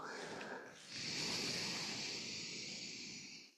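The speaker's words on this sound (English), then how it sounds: "So breathing in, count of 4." A slow, soft breath drawn in during a meditation session, a quiet airy hiss that swells after a brief pause and holds for a few seconds before fading.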